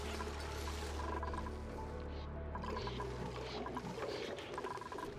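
Water gushes and splashes out of a deconstructed water cooler in the Oxygen Not Included video game. The pouring is continuous and moderately loud and changes pitch partway through.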